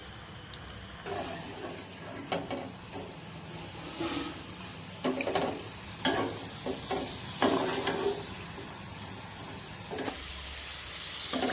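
Elephant foot yam fries frying in hot oil, a steady sizzle with scattered bubbling pops and occasional stirring clatters throughout.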